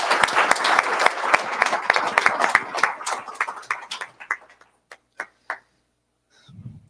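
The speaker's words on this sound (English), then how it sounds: "how about a round of applause for his brother?" Audience applause at a stage event, dense clapping for about four seconds that thins into a few scattered claps and then stops, followed by a brief low murmur.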